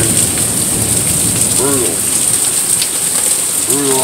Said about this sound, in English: What do you think about the rain?